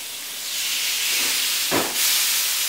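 Steaks laid into a smoking hot preheated grill pan give a loud, steady broadband sizzle that swells as the meat goes in, with no talking.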